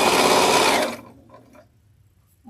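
A Bernina 735 sewing machine runs fast at close range for about a second, a dense steady whir of stitching that stops abruptly into near silence.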